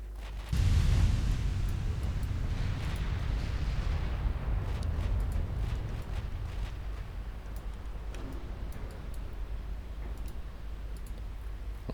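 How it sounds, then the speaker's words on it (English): A naval battle in Ultimate Admiral Dreadnoughts: a deep, rumbling explosion opens, then a sustained low roar of gunfire runs under a scatter of sharp clicks and distant reports. "Did your A and B turret blow up?"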